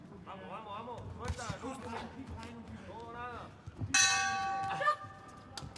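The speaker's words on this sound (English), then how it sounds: "there goes the bell" A boxing ring bell ends a round at a youth world championship bout, a loud metallic clang ringing over a commentator's voice and crowd noise, sustaining for about a second with a fresh strike midway.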